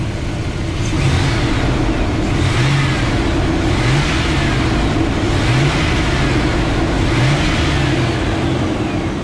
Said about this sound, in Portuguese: Motor funcionando sereninho